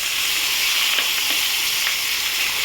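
Cup-rinsing water poured into frying spice masala for a potato and katla fish dish, producing a continuous loud close sizzle with light stirring taps, no talk.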